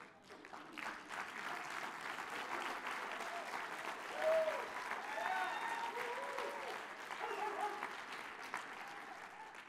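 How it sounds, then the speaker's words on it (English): Thin audience applause in a lecture hall greets a wellness talk: a scattered, fairly quiet patter of clapping holds steady for the whole stretch with a faint crowd murmur beneath. "that might have been the weakest applause I've heard in a long time"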